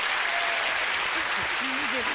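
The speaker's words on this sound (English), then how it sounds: "them a nice round of applause." A studio audience on a TV game show applauds in a steady, dense wash of clapping that holds throughout, with a voice briefly heard over it.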